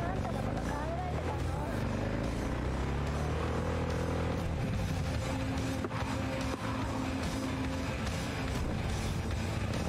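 A motorcycle tearing through city streets in Cyberpunk 2077, a steady loud engine drone with rising and falling pitch as it revs, layered under continuous game music and someone talking over it.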